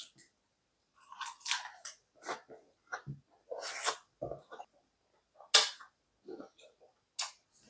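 Close-up chewing of a lettuce wrap with gochujang, crisp crunchy bites and wet mastication in separate bursts with short pauses, very near and clear in a quiet room.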